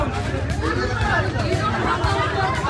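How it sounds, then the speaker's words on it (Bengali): A crowd bustles outside the famous Kakatua sweet shop in Puri, a dense, continuous babble of many overlapping voices, with one nearby voice talking over it. "ভিড় দেখো জাস্ট একবার"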